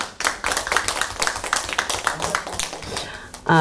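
An audience at a Korean humanities lecture claps to welcome the speaker, a burst of dense, moderately loud applause that thins toward the end, where a voice briefly begins.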